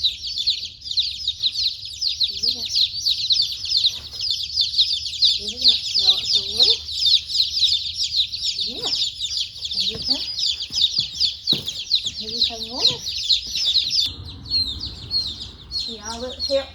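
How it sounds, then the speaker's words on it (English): Young chicks keep up a dense, continuous high peeping throughout, with a person talking softly to them now and then over the top. "these chickens are they're chirping and making a lot of noise"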